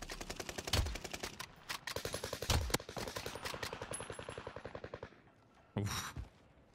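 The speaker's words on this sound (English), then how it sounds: "I took 60 bullets to kill that guy, bro." Rapid automatic gunfire in the video game Call of Duty Warzone rattles in long, sustained bursts punctuated by heavier booms, then cuts out briefly before a final sharp burst, loud and up close with no talking.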